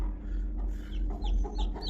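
A Brahma hen with her chicks makes low, close clucks while thin, high chick peeps chirp over them.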